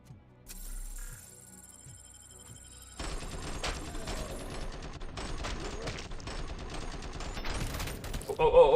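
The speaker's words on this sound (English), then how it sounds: "Oh, grenade." Gunfire and explosions from the RoboCop: Rogue City video game, with a grenade among them: bursts of rapid shots and mechanical clatter building over several seconds after a quieter start, ending in a louder blast.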